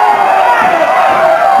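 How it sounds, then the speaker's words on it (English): Crowd at an NWA St. Louis professional wrestling match hooting, hollering and barking at a wrestler, a dense continuous roar of many voices, loud and close throughout. "The crowd hoots, hollers, and barks at Bulldog Bob Brown."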